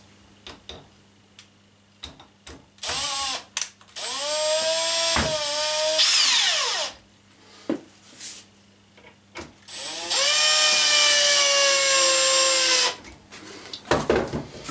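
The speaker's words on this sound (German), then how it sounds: "Jetzt kommen hier die Schrauben rein." A power drill drives screws into a wall bracket for caps, with two long whirring bursts whose pitch sweeps up as the motor spins, separated by short clicks and handling taps.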